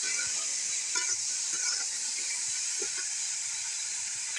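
Vegetables for chicken fried rice fry in a pan with a steady, close, bright sizzle and hiss, plus a few soft stirring knocks, with no talking throughout.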